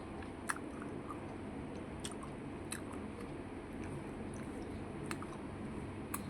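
Steady, close chewing and biting of a fish lunch, with soft crunches and wet squishes repeating throughout, no talking.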